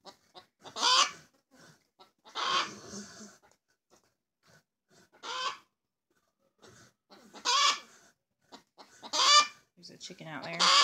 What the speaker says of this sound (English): There's a chicken out there.